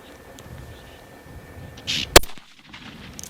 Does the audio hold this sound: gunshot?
yes